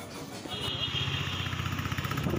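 Motorcycle engine running steadily at a low, even throb on a ride through Guwahati city streets, close and continuous, with a faint high whine layered above for part of the time.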